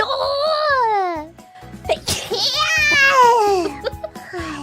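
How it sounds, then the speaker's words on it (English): A woman's sneeze, sharp and close, comes amid bright playful vocal sounds and giggling, with brief bursts of chatter around it. "Moko-chan sneezed on a few for sure."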